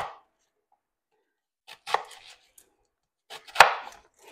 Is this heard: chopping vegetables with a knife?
yes